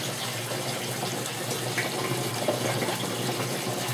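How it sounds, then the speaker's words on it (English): Water runs steadily into a bottle in a toilet-valve float system on a farm, a soft, even trickling wash that continues unbroken and fairly quiet. "The water runs into it from up here and fills the bottle."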